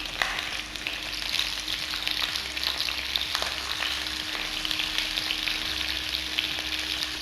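Organic skin-on chicken wings fry in a pan, a constant close sizzle and crackle of hot oil with a faint steady hum beneath and scattered small pops.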